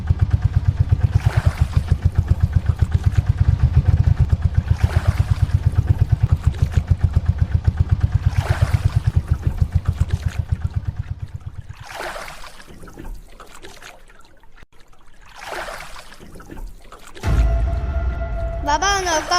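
A motor boat engine runs with a steady low rumbling chug for most of the stretch, then cuts back to quieter idling with water sounds and faint voices.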